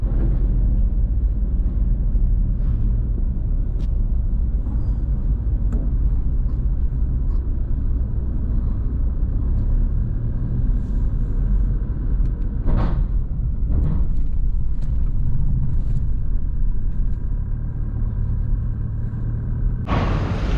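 A vehicle rolls off a RoRo ferry at Caticlan port, a loud, steady low engine rumble with road noise throughout, joined by brief higher mechanical bursts and scattered clanks.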